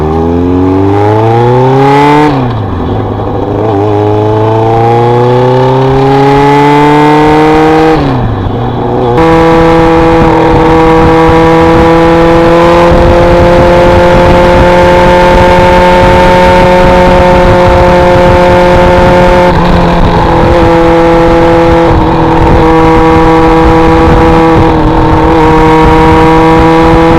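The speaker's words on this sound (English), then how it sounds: "This FZ600 is a beautiful bike." A Yamaha FZ600 motorcycle engine revs up and down, then holds a loud, steady, close-up drone with strong harmonics while riding, with no voices.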